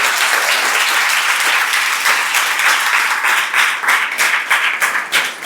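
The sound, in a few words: audience applause for teachers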